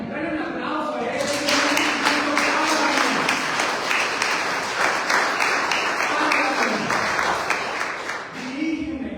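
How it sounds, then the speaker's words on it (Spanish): A church congregation claps during a Spanish-language sermon, the applause rising quickly into a loud, dense wash that holds for most of the stretch, with a preacher's voice and a sustained tone underneath. "Dale un aplauso a él."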